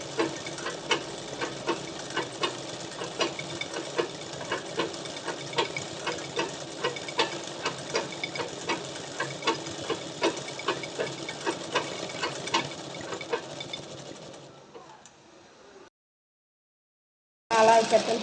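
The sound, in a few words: sewing machine stitching an embroidery petal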